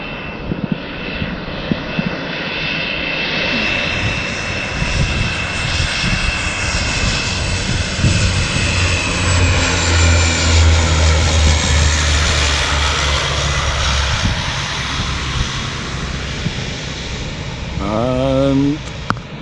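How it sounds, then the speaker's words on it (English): A small propeller plane drones loudly overhead as it comes in over the hills to land on the beach at Barra, its engine note swelling and holding steady before fading, with faint voices in the background. "it's coming over the hills now. The only beach landing in the world"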